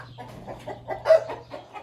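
Brahma and blue Orpington chickens give soft, short clucks in an irregular run, close by, over a low steady hum.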